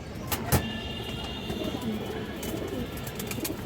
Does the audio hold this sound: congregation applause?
no